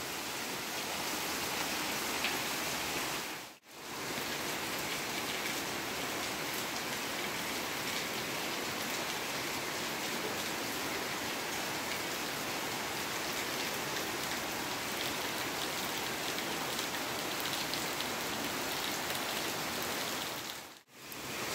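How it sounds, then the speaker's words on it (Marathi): Continuous steady monsoon rain in Kankavli, Konkan, falls with an even hiss, uninterrupted except for two brief dropouts. "सकाळी तिकडे पावसानं बघा हजेरी लावला ना"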